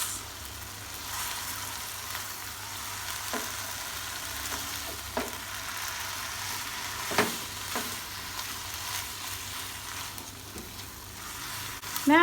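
Mie goreng noodles with sliced spices fry in a pan with a steady soft sizzle, broken by occasional scrapes and clacks of stirring, at moderate volume throughout.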